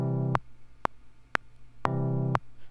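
A software instrument chord in Logic Pro plays with all its notes starting together, a short buzzy tone sounding twice with sharp clicks between, quiet and isolated.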